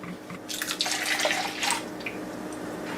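Water splashes and trickles in short bursts into thick rice batter, then tapers to a soft drip.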